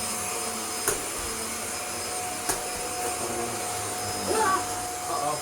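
A Shark NV680UK Power Speed Lift Away vacuum cleaner runs on carpet with a steady, even whine and hum, broken by a couple of sharp clicks and a brief rougher surge near the end.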